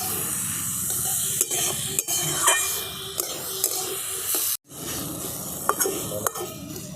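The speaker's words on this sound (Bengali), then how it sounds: "এবার এই আলুগুলোকে ঘিয়ের সাথে একটু ভাজা ভাজা করে নেব।" Potatoes frying in ghee and being stirred, a soft continuous sizzle with scraping stirs and light clinks of a spoon against the pan, close by, with a brief silent break midway.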